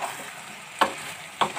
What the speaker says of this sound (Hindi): तो आइए फ्रेंड चेक कर लेते हैं चिकन को पकते हुए